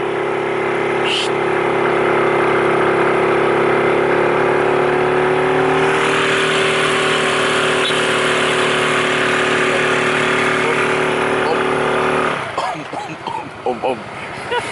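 A motorcycle engine drones loudly and steadily at its top speed on a climb in Sumbawa, straining without gaining pace, with wind rush over it before the roar drops away near the end and voices speak over it.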